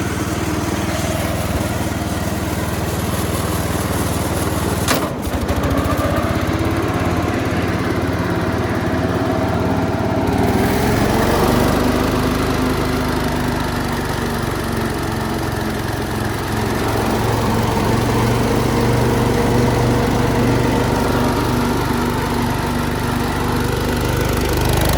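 A Gravely 430 riding mower with its cutting deck engaged runs steadily for the whole stretch, a loud, continuous engine drone with a constant whirring hum, close by and without talk.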